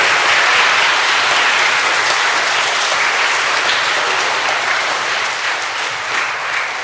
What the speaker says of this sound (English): Yes, round of applause for our 8th grader again.